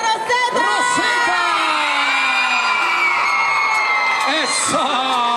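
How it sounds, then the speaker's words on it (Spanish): A live crowd at MetroMall in Panama cheers, whoops and shouts loudly for Rosetta at a ¿Quién es la Máscara? event, with children's voices and high-pitched yells rising over a steady roar. "¡Fuerte el aplauso!"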